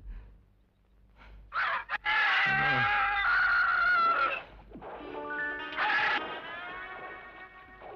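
Two roosters crow in a scene from a 1984 Indian film, giving loud, drawn-out harmonic calls, one after another, with a short pause between them.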